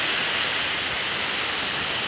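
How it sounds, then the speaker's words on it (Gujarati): Heavy rain driven by strong wind at seven in the evening, a dense, unbroken roar of broadband noise filling the whole clip at a loud, constant level. "સાંજના 7 વાગી ગયા અને પવન ને વરસાદ બહુ ચાલુ થઈ ગયા છે।"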